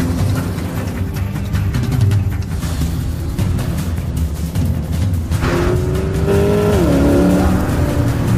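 Classic cars roar through a chase on a narrow road between cliffs and a ravine, engines revving loudly and continuously with rising pitch sweeps as they accelerate and pass close by.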